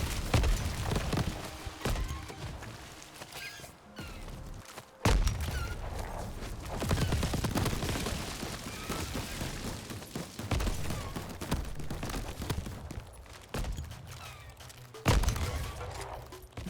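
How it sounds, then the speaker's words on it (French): Dense game combat from Crab Champion, with repeated explosive bursts and thuds as enemies blow up on death, thick overlapping gunfire-like booms and clatter running loudly and continuously throughout. "quand un ennemi est tué, il explose"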